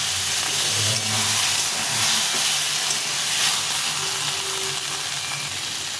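Cauliflower and potato fry in a pan with a steady, fairly soft sizzle and hiss that holds throughout, with no talk over it.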